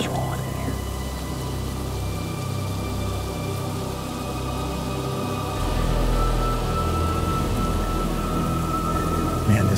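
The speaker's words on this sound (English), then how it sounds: "This rain and wind is so bad you can barely even see him." Heavy rain and wind roar steadily during a hurricane in the woods, a dense continuous wash of falling water and gusting air that swells louder partway through, with no clear talking.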